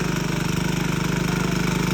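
A large diesel tractor engine runs at a steady idle during rice transplanting in a Konkan paddy field, a loud, close, low rhythmic chug with constant pulsing and no voices.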